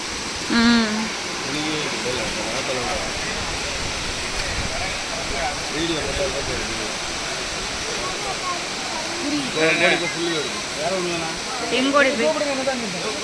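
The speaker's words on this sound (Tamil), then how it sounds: "இப்போ இது மெயின் ஃபால்ஸில் இருக்கோம்" Courtallam Main Falls roars in a loud, unbroken rush of falling water, with people talking over it.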